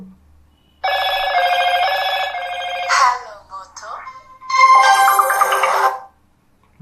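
A Moto G54 5G smartphone plays its ringtone at call volume, a loud melodic electronic tune in two bursts separated by a short pause, with no other sound around it.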